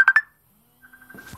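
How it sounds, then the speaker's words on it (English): A mobile phone goes off in Okinawa, Japan: two short, clear electronic beeps, then after a pause a quieter run of repeating tones with some low background rustle near the end. "That's my phone going off."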